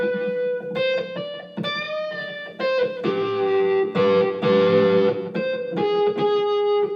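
An electric guitar solo played through overdrive with echo and spring reverb, a run of sustained distorted notes and bends, loud, close and alone.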